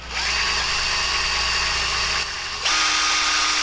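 A small power drill whines steadily while drilling an eye socket into a wooden fishing lure, briefly dropping in pitch before spinning back up at a slightly different tone.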